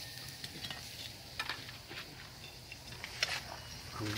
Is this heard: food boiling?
yes